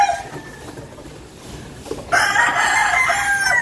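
Chickens in a flooded backyard cluck softly against a quiet background, then a rooster lets out a loud, drawn-out crow that carries to the end.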